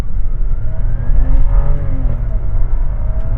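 A Skoda Superb launches hard from a standstill in low gear during an acceleration run, its engine note loud and close, rising in pitch through the revs with a strong rumbling drone.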